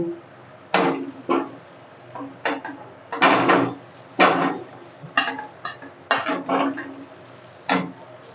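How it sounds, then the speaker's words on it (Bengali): Potatoes drop into hot spiced oil in a pan for an egg curry, giving a series of close, sharp clatters and sizzling bursts spaced irregularly over several seconds with no talk. "মশলা থেকে তেল ছেড়ে দিয়েছে, এবার আমি আলুগুলোকে দিয়ে দেবো"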